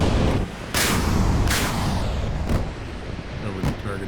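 Rocket impacts from an A-29B strafing run in the DCS flight simulator, a string of four or five sharp booming hits spaced about a second apart over steady engine and ambient rumble.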